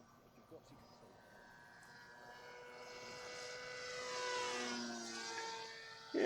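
Electric motor of a Sky Surfer X10 RC trainer plane powering up in flight after gliding, a faint, distant whine that rises steadily in pitch and loudness outdoors.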